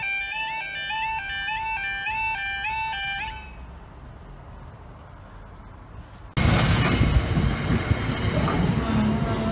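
At Ashington Green Lane level crossing in Northumberland, the alternating two-tone crossing alarm sounds first, then fades to quiet rumble before a train suddenly roars past close by, loud and broadband to the end.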